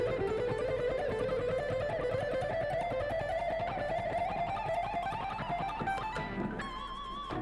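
A guitar scalar run moving through fretboard positions in a pattern of three up and one back, a long rising stream of quick picked notes that settles into a held note near the end, with no talking.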